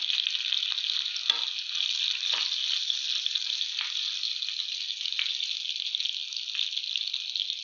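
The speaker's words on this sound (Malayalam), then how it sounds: "ഇനി നമുക്ക് ബാക്കിയുള്ള ചിക്കനും കൂടി വറുത്തെടുക്കാം" Steady hissing sizzle of food frying in hot oil, continuous and fairly loud, with occasional sharp crackles and pops.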